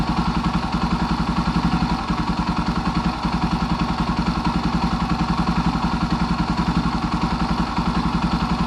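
A Suzuki DR650 supermoto single-cylinder engine idles steadily and evenly, a close, continuous low thumping pulse that holds at a constant speed throughout with no talking over it.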